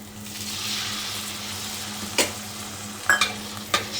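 A mustard, green chili and salt paste, thinned with water, goes into spices frying in a pan, giving a steady sizzle with a few sharp stirring clinks near the end.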